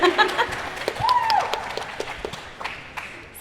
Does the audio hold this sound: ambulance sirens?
no